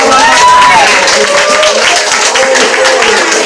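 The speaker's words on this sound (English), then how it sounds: "Y'all clap it up for Marcia." Audience applause and cheering at a live poetry show in Bronzeville, a dense wash of clapping filling the room steadily throughout, with a voice calling out over it.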